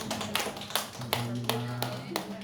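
Church congregation applauding during a Sunday worship service, a scattered burst of claps with a few sharp hits under steady indoor room tone, moderately near.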